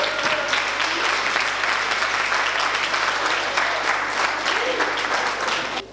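Applause for trophy maker Francis Hamelin from an audience in a hall at a 50th anniversary celebration, a steady, dense round of clapping that holds for the whole stretch, with faint voices mixed in.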